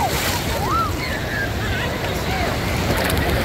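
South Atlantic Ocean surf at Copacabana Beach in Rio de Janeiro, a continuous wash of waves with strong wind noise on the microphone and faint distant voices.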